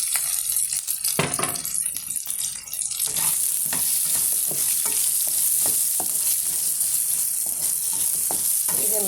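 Potato and onion fry in a pan, giving a loud, steady hiss of sizzling oil broken by repeated metallic clinks and scrapes from stirring.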